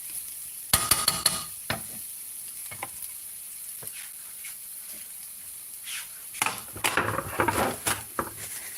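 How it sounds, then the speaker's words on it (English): Food cooking in a pan after the heat is turned off, giving a soft, steady sizzle broken by scattered utensil clinks and a couple of brief scraping bursts near the end. "Let's turn off the heat and just let that simmer"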